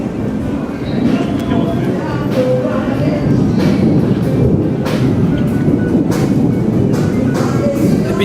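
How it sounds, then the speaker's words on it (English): A train passing through New Orleans, a loud steady rumble with rattling wheels and metallic clanks close by, people talking over it. "there's a train coming"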